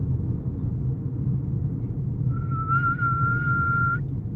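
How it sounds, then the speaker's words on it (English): A person whistles a single sustained steady note for about two seconds over a low background rumble, fairly close, with no speech. "Can you whistle for me?"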